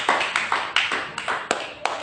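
A church congregation clapping for Jesus during a sermon, a run of about seven sharp, evenly spaced claps in a quick rhythm, close and fairly loud with no talking.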